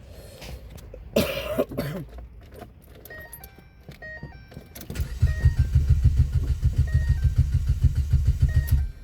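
A 2011 Ford Fiesta engine cranks repeatedly in a rapid, rhythmic churn for several seconds, close and loud, while the gas pedal is pumped, preceded by a cough, rustling and jangling keys.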